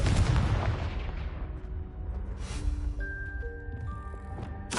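A Confringo spell blast in Hogwarts Legacy, a heavy booming explosion that rumbles and fades over a few seconds, followed by softer game effects and tones.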